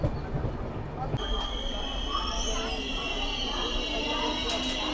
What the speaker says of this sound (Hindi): 40 मिनट की देरी से हमारी धौली एक्सप्रेस पहुंच चुकी है भुवनेश्वर रेलवे स्टेशन